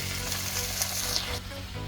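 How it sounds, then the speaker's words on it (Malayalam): Chicken pieces, about 1.25 to 1.5 kg, drop into a pan of sizzling tomato for a homestyle chicken curry, giving a loud, steady hiss and crackle with a brief shift as they settle. "ഇനി നമുക്ക് നമ്മുടെ ചിക്കൻ പീസുകൾ ഇട്ട് കൊടുക്കാം."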